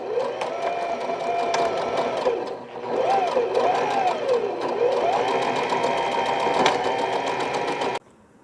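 A sewing machine stitches the shoulder seam of a smocking dress, running steadily for about eight seconds with a busy rattling hum and a short dip midway, then stopping abruptly.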